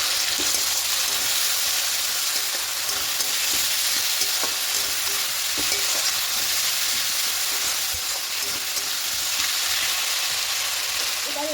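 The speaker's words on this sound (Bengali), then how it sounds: "লবণটা পরিমাণ মতো এখানে দিয়ে দেবো খুব ভালো করে একটু কষিয়ে দেবো" Fish head frying in a pan with turmeric and salt, stirred steadily; a continuous broadband sizzle runs throughout with faint scraping, no talk.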